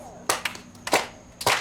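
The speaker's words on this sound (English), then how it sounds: "Ready? 3 claps." An audience claps three times at a storytelling performance, three sharp separate claps spaced about half a second apart, fairly close and moderately loud.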